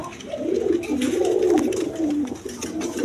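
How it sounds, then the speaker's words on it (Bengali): A pair of large Lakkha pigeons coo close by, with soft, throaty rolling calls running continuously and overlapping one another. "এখানে এক পেয়ার লক্ষা কবুতর আছে"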